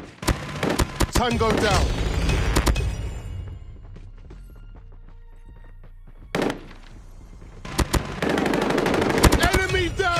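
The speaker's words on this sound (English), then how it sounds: "Sentry gun deployed." A sentry gun in a multiplayer shooter fires rapid, loud bursts at the start and again near the end, with a quieter stretch of distant shots between and a brief voice callout.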